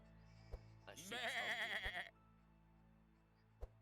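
A sheep in the video game Across the Obelisk lets out one wavering, nasal bleat lasting about a second, fairly clear over a quiet background, framed by a few sharp clicks.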